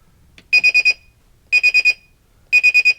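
A carbon monoxide alarm mounted in a detached country house sounds its test signal: three loud, clear bursts of four rapid high-pitched beeps each, separated by short pauses, with nothing else heard.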